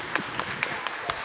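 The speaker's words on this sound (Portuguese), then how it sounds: "Salva de palmas para elas." An audience claps at a Jewish film and theatre event in short bursts of applause, about five evenly spaced surges within a second, heard under a voice speaking.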